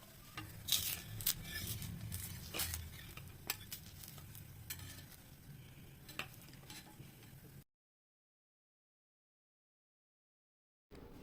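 Ragi dosa batter hits a hot pan and sizzles softly, broken by sharp scraping and clinking strokes of a utensil, then the sound cuts to silence before a brief return.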